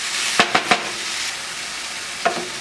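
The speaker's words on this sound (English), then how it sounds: "Now I do want to cook these tomatoes down until they're blistered and kind of shriveled up" Tomatoes with salt and pepper cooking down in a pan for Turkish menemen give a steady, close sizzle, broken by a few sharp scraping clicks from stirring near the start and once more near the end.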